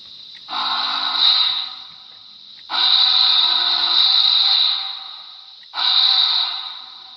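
Three blasts of a synthesized train whistle from the sound decoder of a Mantua 2-6-6-2T logger model locomotive, chord-like and steady, the first two long and the last cut short, with gaps between.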